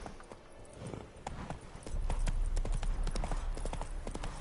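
Horse hooves clip-clopping in The Witcher 3: Wild Hunt, a steady run of close hoof beats over continuous game background noise.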